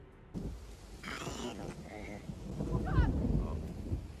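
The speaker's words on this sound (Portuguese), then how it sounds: "O detalhe é o barulho do trovão no fundo, que é o mesmo usado em Guerra Infinita" Low thunder rolls in the background of a scene from the Avengers: Endgame film, building and fading beneath other layered soundtrack effects and voices.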